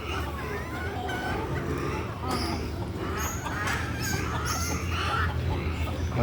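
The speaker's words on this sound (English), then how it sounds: "It's a baby chicken." A baby chicken clucks at a petting zoo amid other fowl, soft repeated chirpy clucks in a busy outdoor mix, with people talking nearby.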